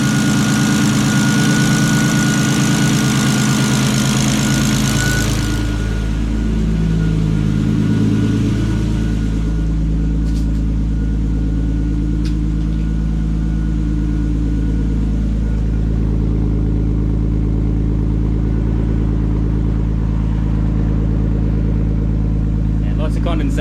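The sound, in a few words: Nissan Stagea RB25DET engine running after fuel system upgrade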